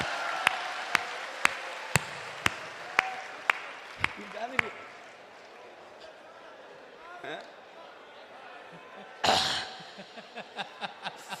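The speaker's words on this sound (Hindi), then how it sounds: "सारे लोग ताली बजाओ नहीं तो चूड़ी यही अटकी रहेगी रात भर।" Sharp regular claps at about half-second intervals from an audience at a live comedy parody show, followed later by a louder burst of clapping and a few scattered claps, with crowd murmur under it.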